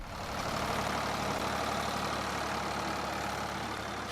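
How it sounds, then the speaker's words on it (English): A tractor engine idles steadily on a farm, a constant, broad mechanical drone that stays loud and close for the whole stretch with no talk over it. "the sound of a tractor is familiar"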